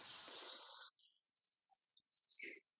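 Forest birds and insects recorded in a tropical dry forest: thin high chirps and a continuous insect-like trill, faint and distant, with no talking.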